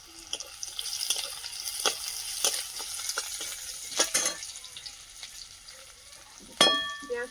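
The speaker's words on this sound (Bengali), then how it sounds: "পেঁয়াজটা ভাজা ভাজা হয়ে গেছে" Onion fries in a pan for a spicy prawn and parshe fish curry, with a steady soft sizzle broken by irregular scrapes and stirring clatters and one sharp clink near the end.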